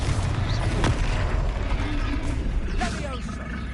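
Blasting fire spell explosions in a Harry Potter video game, a dense continuous rumbling roar of blasts and crackle with sharp bursts, loud throughout, with voices and spell calls mixed in.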